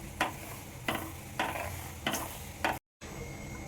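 Cumin and fenugreek seeds fry in oil with a soft, steady sizzle, broken by four evenly spaced scraping stirs, close by, followed by a brief cut to silence.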